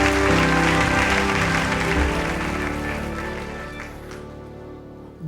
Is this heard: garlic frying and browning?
no